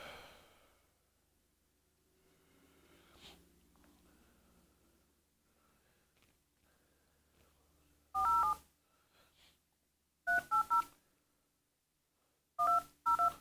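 Telephone keypad tones ring out in three short bursts of dialing beeps, loud and crisp against a near-silent background with faint breathing, as a call is placed to a window tinting business.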